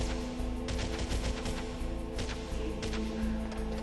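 Dense bursts of gunfire in Metal Gear Solid sit over a sustained low tonal hum, with clusters of sharp reports repeating throughout a few seconds of steady game audio.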